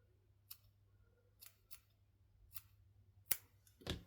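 Scissors snip through crochet yarn loops on a scarecrow piece in several separate crisp cuts, close and quiet, with pauses between cuts and a sharper, louder snip near the end.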